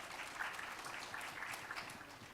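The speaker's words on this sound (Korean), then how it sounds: "박수 좀 부탁드립니다" Quiet applause from an audience at a digital marketing summit talk, a brief patter of clapping heard faintly and evenly for a couple of seconds.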